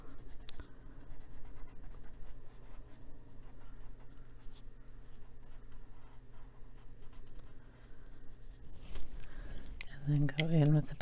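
Soft, steady scratching of a colored pencil on paper, continuous and close, with faint rustling and a brief tapping near the end.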